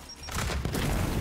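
A grenade blast in the shooter game Gears 5, a sudden loud booming burst that swells in after a quiet moment and rumbles on heavily for about a second.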